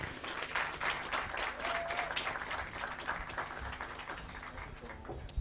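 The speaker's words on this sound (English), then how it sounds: "let's clap for Solomon" Faint, distant applause from an audience at a Kenya Airways International Youth Day celebration, a soft, continuous patter of clapping that carries on evenly from start to finish.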